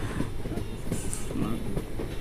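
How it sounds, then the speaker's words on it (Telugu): Freight train hauled by twin WAG9 electric locomotives rolls past, heard from a moving passenger train near Guntur as a steady, loud rumble of wheels and rattling wagons with no break. "అదిగోండి WAG9 హెచ్సి, అది 2 WAG9 డ్యూల్ WAG9లు అయ్యి"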